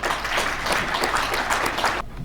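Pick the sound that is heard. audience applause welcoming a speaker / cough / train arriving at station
audience applause welcoming a speaker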